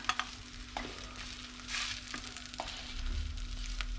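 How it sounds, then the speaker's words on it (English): An egg roti frying in a pan after being flipped, giving a steady close sizzle with a few sharp spatula taps and scrapes against the pan. "Now flip it over to the other side for it."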